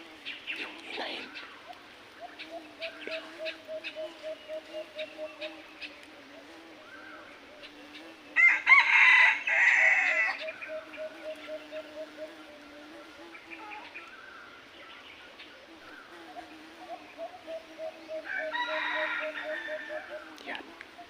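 Red junglefowl rooster crows loudly in open country, one prominent call near the middle and another toward the end, set against steady rhythmic chirping insects or birds, with someone speaking quietly in between.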